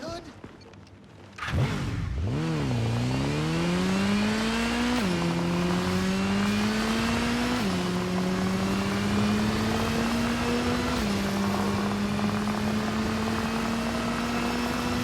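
Motorcycle engine in Gotham Knights, ridden with a flat tire, kicks in and revs through repeated gear shifts, its droning pitch climbing then dropping in steps, loud and steady.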